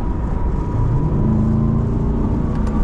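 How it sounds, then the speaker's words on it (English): A 2022 Chevrolet Corvette Stingray 2LT with Z51 package revs under acceleration from inside the cabin, a steady loud engine drone with its pitch climbing partway through. "But man, that engine sounds fantastic."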